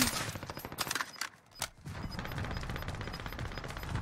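Rapid bursts of automatic gunfire crackle in Call of Duty Warzone, dense and continuous with a short lull, mixed into busy game sound at moderate loudness.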